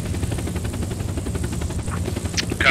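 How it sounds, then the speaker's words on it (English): A transport helicopter in the video game Squad flies steadily, its rotor thumping in a fast, loud, close rhythm with a constant engine whine, and nobody talking. "We're taking the transport helicopter through the tunnel."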